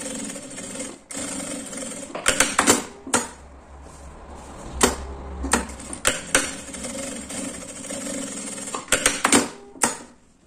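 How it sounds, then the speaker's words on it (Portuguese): A sewing machine runs a topstitch seam on fabric for a small handbag, working in uneven bursts of whirring and clattering stitching with short pauses between runs, close and fairly loud, with no talk. "E vamos passar a costura e fazer a costura, né, de pesponto,"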